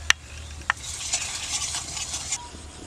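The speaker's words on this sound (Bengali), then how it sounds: "তেলটা গরম হয়ে গেছে, আমি এতে দিচ্ছি কালো জিরা, লঙ্কার গুঁড়া," Nigella seeds and chili powder hitting hot oil in a wok, a soft continuous sizzle with two sharp pops at the start and faint crackles, quiet and close, no voices.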